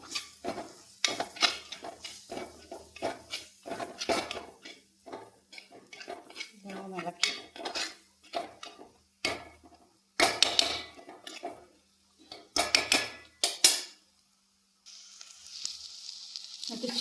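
A utensil stirs masala for chicken curry in a metal pan, giving repeated close scraping and clanking strokes with a light sizzle underneath and short pauses between bursts.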